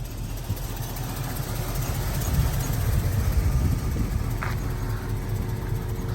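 A 1966 Chevrolet Chevelle fitted with an LS engine idles with a smooth, quiet, steady low rumble, heard alone and close with no talking.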